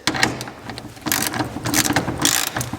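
A hand ratchet with a 14 mm socket tightening a bolt during a GMC tonneau cover install, rapid close clicking in short bursts with brief pauses, loud and alone.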